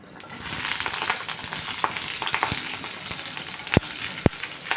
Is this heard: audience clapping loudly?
no